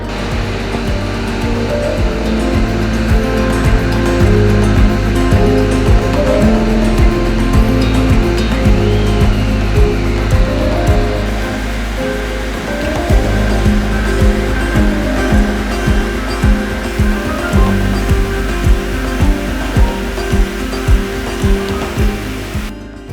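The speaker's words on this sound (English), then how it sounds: "this waterfall was absolutely amazing" Icelandic waterfall roaring loud and steady at close range, a broad continuous wash of rushing water with low rumble and occasional gusty buffeting, no voices.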